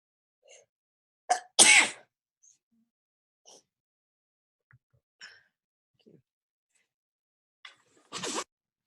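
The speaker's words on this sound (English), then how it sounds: "I'm going to start sneezing." A couple of sneezes, one sharp burst early and another near the end, separated by quiet breaths and small rustles.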